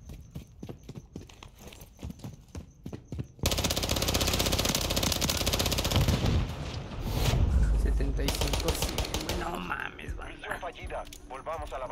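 Automatic gunfire in Call of Duty rattles in dense, fast bursts, with a loud sustained barrage in the middle and sharper individual shots before and after, amid other chaotic game noise.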